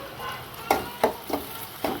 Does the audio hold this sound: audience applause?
no